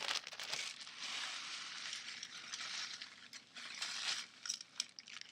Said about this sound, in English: I'm using a food processor here to make sure everything is well incorporated.